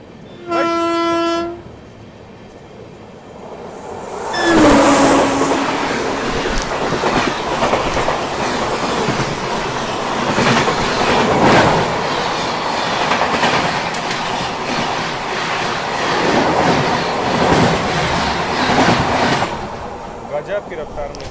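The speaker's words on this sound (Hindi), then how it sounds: "ट्रेन की रफ्तार देखिए।" The Mahanagari express train passes at speed, opening with a loud horn blast, then a long roaring rush with rhythmic clickety-clack of wheels over rail joints, close and loud before fading at the end.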